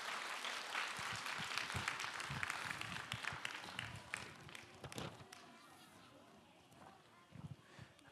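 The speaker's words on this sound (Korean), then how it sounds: "다시 한번 하나님께 영광의 박수를 드리겠습니다." A church congregation claps in praise to God during a Friday prayer service, a dense burst of applause that gradually thins and fades, with a voice speaking faintly over part of it.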